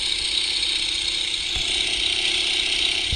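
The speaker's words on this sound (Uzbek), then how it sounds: "Mana bu samolyot uchamiz." An airplane flying in the Minecraft video game gives a steady, droning engine hum that stays unchanged for a few seconds, with no speech over it.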